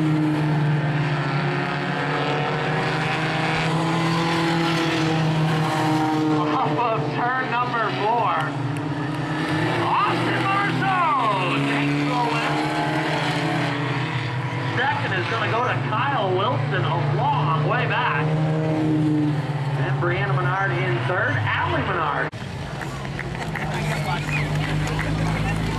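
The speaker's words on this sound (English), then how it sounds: "Austin Marceau pulls that 38 machine up into victory lane" The No. 38 race car's engine drones and revs as it pulls into victory lane, pitch rising and falling in sweeps under a loud announcer and crowd noise.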